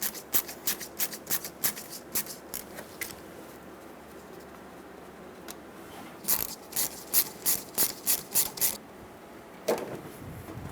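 Plastic push clips are pried out of a plastic cover on a 1999-2025 Ford E-350 during an AC condenser replacement, giving two bursts of sharp ratcheting clicks and snaps, close and fairly loud, separated by a quiet stretch.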